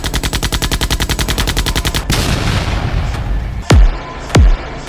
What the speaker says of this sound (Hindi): अरे, गोली चलने की आवाज कहाँ से आ रही है?